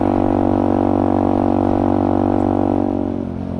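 Motorcycle exhaust with the muffler baffle fitted, revving steadily and loudly up close with a strong low throb, then easing off and dropping in level near the end.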